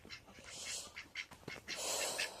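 Several ducks quacking nearby in irregular bursts, loud and close, with no talking.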